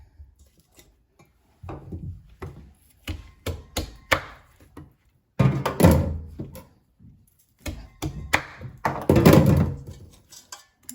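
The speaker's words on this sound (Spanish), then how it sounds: "Los voy a partir para acomodarlos." A knife cuts through steamed corn tamales on a board to fit them into a pot, giving irregular bursts of sharp, close chopping thunks separated by short pauses.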